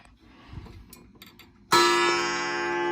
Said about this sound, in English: Coil gong striking.